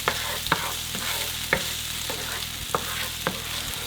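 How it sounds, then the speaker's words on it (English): Peppers and onions being sautéed in a pan while home fries are made, with a steady low sizzle under repeated scraping stirs and occasional clicks of a utensil against the pan, no talking. "what we're doing here is pretty much just sauteing it, getting it nice and soft"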